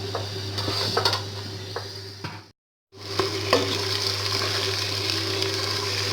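Grated bottle gourd halwa with cardamom powder is roasted and stirred in ghee, giving a steady close sizzle with scraping spoon strokes and a steady low hum, broken by a brief silent gap midway.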